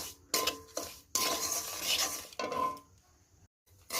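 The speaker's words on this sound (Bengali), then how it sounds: "সুজিটা একটু সময় ধরে এটাকে ভেজে নিতে হবে দেখুন সুজিটাকে আমি ভেজে নেব" Semolina dry roasting in a pan, stirred with a spoon: a few close scraping strokes of uneven length with short pauses between them, faint and without talk.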